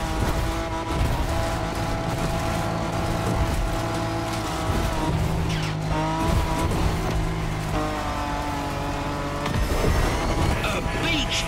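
A Toyota Tacoma drives downhill off-road in the video game The Crew Motorfest, its engine droning loud and steady with tire noise and rattling bumps, under a voice speaking.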